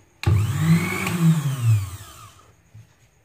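A kitchen mixer grinder with a faulty coupler switches on abruptly and hums loudly with a wavering motor drone for about two seconds, then cuts off, leaving a faint tail.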